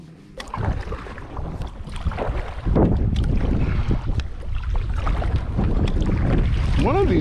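Wind buffets a bass fishing boat on open water, a constant rough rumble and gusting roar close to the microphone that swells louder partway through and stays strong to the end.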